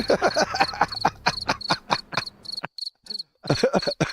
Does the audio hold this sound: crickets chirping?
yes